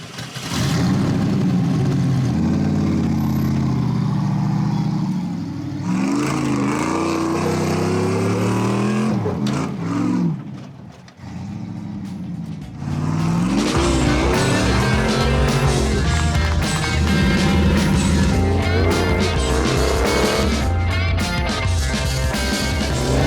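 LS-swapped truck with big brakes, Bilstein coilovers and a stretched frame, its V8 idling loudly up close and revving up and down in throaty bursts, with a short lull in the middle.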